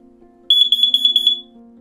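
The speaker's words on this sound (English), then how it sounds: "a full alarm of 4 beeps, a pause, and 4 beeps repeated" A Kidde 10LLDCO carbon monoxide alarm sounds four sharp, high-pitched electronic beeps in quick even succession, then stops, loud and close against a faint low hum.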